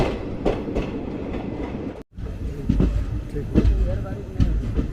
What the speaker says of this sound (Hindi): जैसीडी जंक्शन पहुंच गई हमारी बलिया सियालदह एक्सप्रेस